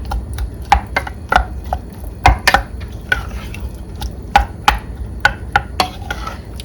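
Soup ingredients of rice and corn being mixed with salt in a pot, sharp repeated clanks and taps of a utensil against the pot at an uneven rhythm, close and loud with no speech.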